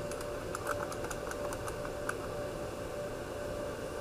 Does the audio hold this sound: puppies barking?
no